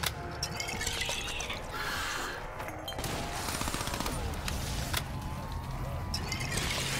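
Steady, dense M19 gunfire from Call of Duty Black Ops 3 zombies in the Revelations map during a solo high-round game, a continuous rapid crackle of shots mixed with game effects, no talking.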